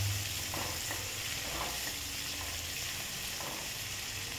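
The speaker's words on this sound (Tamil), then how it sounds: "அப்புறம் நீளமாக கட் பண்ண ஒரு பெரிய வெங்காயம் எல்லாம் சேர்த்துட்டு வதக்கிட்டுறலாம்" A large sliced onion with green chillies sautés in a pan, producing a faint, even sizzle under occasional soft stirring scrapes, close and steady throughout.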